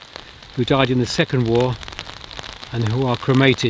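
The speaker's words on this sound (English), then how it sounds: "And the rain is hammering down." Heavy rain hammers down at the City Road cemetery in Sheffield, a steady broadband hiss with patters running under someone talking close by.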